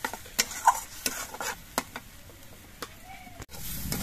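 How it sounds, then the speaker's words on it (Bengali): Okra stir-fried with a ground mustard and poppy seed paste, faint pan sizzle broken by sharp scattered clicks and scrapes of a spoon against the pan. "এবার এই মশলাটা দিয়েও কিছুক্ষণ কষিয়ে নিতে হবে।"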